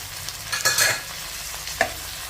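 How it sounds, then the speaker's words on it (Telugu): Chopped tomato pieces sizzle in a frying pan while being stirred, a soft steady fry with a couple of louder scraping stirs near the start and one brief clatter later, no voices. "ఇప్పుడు ఈ టమాటో ముక్కలను కూడా ఒక రెండు నిమిషాలు ఫ్రై చేసేసుకోవాలి"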